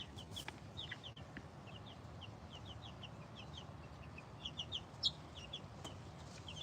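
Bantam chicks on their first day outdoors at a farm, giving a steady run of short, high chirps and soft clucks that sit close over a low, constant outdoor rumble, with a few louder peeps standing out.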